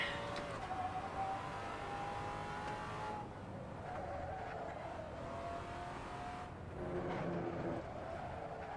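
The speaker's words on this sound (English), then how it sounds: "Yes, it is the Maserati." The engine of a Maserati Quattroporte being driven in the Assetto Corsa racing game drones steadily and fairly faintly, its pitch rising through gear changes, with brief dips where it shifts. The engine continues throughout and no one talks.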